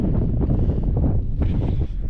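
Strong wind buffets and roars across the microphone in steady gusts on a mountain summit, loud and close with no voices.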